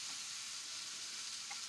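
Pancetta frying in a pan gives a steady, close, bright sizzle with a constant hiss and no voices.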